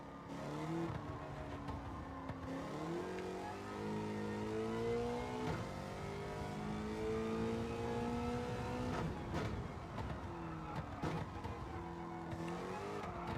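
DeLorean with an LS7 engine swap in Gran Turismo 7 accidentally firing nitrous: a loud, continuous engine roar with rising and falling revs through gear changes, with tire squeal and skidding mixed in, and no talk.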